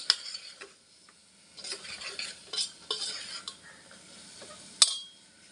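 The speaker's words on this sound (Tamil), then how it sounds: "தட்டப்பை சேர்த்துட்டு நல்லா வதக்கி விட்டுக்கலாம்" Soaked cowpeas are sautéed in a pan for a rice dish, with a spoon scraping and stirring in irregular bursts over a faint sizzle, ending in a sharp metallic clink.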